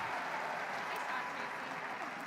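Steady applause from a curling arena crowd, continuous and fairly loud, filling the space without a break, with faint voices mixed in.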